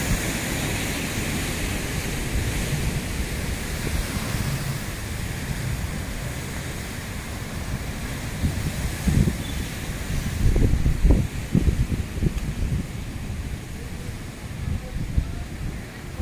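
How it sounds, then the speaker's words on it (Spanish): Large ocean swells pound the shore at Mazatlán during surge from the remnants of Madeline, a continuous broad roar of surf and wind with heavier bursts of crashing water partway through. "Aquí ya se están poniendo la otra vez las olas muy grandes"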